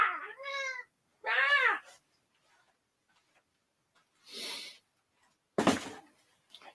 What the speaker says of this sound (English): Andrew, have you seen my cat?